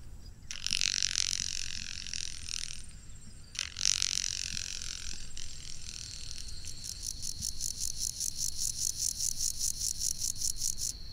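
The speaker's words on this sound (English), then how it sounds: "Grasshoppers sound a lot raspier." A grasshopper makes long, raspy stridulating bursts, two separate phrases followed by a steady pulsing rasp, close and fairly loud over a low rumbling background.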